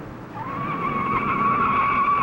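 Tires on a 1960 NASCAR Grand National race car shriek in a long, loud, sustained skid as it spins out, the squeal holding steady and close for the whole stretch.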